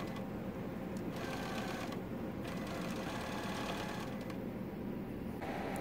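A sewing machine runs steadily at close range while satin stitching around a quilt block, with a fast, even mechanical whir and brief changes in pace throughout.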